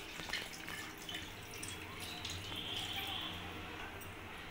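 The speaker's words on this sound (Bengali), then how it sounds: "একটু গরম জল দিয়ে দেবো এর মধ্যে।" Hot water is poured into a pan of chicken coated in cashew paste, a soft, steady trickle and splash that stays faint and continuous throughout.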